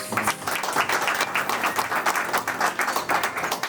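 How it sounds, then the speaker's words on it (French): Audience applause at a bank opening event in Bangangté, a steady dense patter of many hands clapping close by, sustained throughout without talk. "est-ce qu'on peut d'abord applaudir la"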